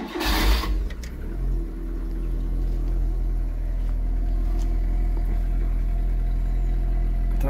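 A Polonez Caro Plus with a 1.4 16-valve Rover engine cranks and catches with a brief burst, then settles into a steady, even idle hum right after starting, close and unaccompanied by talk.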